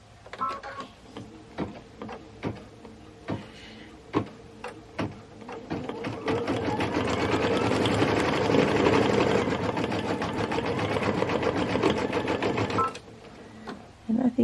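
A home sewing machine stitching a topper with red thread: a few separate clicks and thumps, then a steady, fast mechanical whir running for several seconds before stopping, close and loud.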